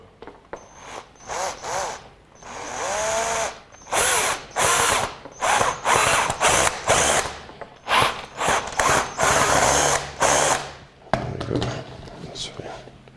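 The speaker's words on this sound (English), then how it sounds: "Let me get the drill." A power drill runs in repeated short bursts of whirring, stopping and starting several times, while someone speaks between the bursts during assembly of a 3D rabbit cake.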